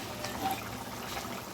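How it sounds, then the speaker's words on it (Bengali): Fried khalse fish goes into a boiling curry, which gives off a steady, even bubbling and sizzling hiss at close range for a brief moment with no talking. "এই যে ঝোলটা ফুটে গেছে, এইবারে এই ভেজে রাখা মাছগুলো এর মধ্যে দিয়ে দিচ্ছে।"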